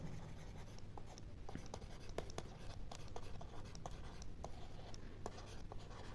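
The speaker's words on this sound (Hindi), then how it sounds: "लिख लेते हैं यहाँ पे, भारत के" A marker or chalk writes notes on a classroom board in quick, scratchy strokes with short pauses, close and steady over a low background hum.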